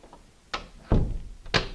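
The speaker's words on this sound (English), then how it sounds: "The door is hard to shut." A slightly warped interior door that sticks is pushed shut several times, giving three dull wooden thunks about half a second apart, each one heavier and closer than the last, with no talk over them.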